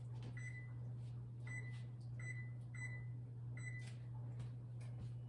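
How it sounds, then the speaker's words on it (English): Oven control panel being set to 375 degrees for baking oatmeal cookies: a series of sharp electronic beeps, some in quick pairs, over a steady low hum in a quiet kitchen. "Now you're going to want to set your oven to 375 degrees"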